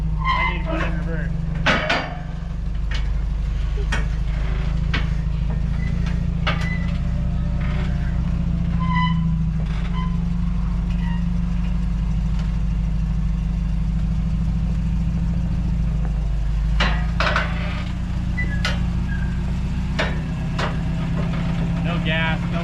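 A 1986 Toyota pickup truck's engine runs at a steady low idle as it is put in reverse, with clanks and knocks from the truck over the drone and occasional voices nearby.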